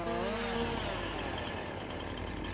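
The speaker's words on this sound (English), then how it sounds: "for this side we're going to rotate our chainsaw 180 degrees, and that'll now fall into the field in the other side" Chainsaw cutting a tree in the farming game Farming Simulator 19, a steady loud buzzing engine drone that holds throughout with a slight pitch drop as it bites into the wood.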